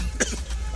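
A man's single short cough rings out near and clear inside a bus amid a steady low background rumble.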